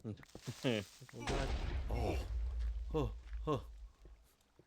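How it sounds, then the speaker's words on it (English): An explosion in the Minecraft video game bursts out as a short, broad blast partway through, set among frequent talking that runs over most of the moment. "I don't know if you heard that explosion."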